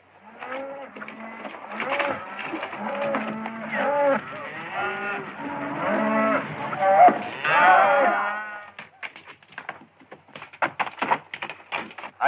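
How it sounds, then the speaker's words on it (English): A herd of cattle moos repeatedly in a Western film scene, with several long, overlapping lowing calls at moderate distance, followed by a stretch of scattered clattering and rustling. "It's a fine-looking herd of cattle."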